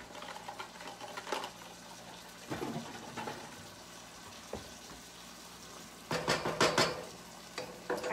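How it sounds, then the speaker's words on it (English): Cooked ground beef being strained in a pan for a cheesy chili spaghetti squash casserole, with faint sizzling and scattered scraping, clanking bursts of utensil against the pan, louder near the end. "So I'm actually gonna strain the beef now because we're gonna have to let it simmer anyway."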